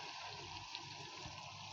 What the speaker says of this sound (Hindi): तकरीबन हाफ कप पानी डाला है।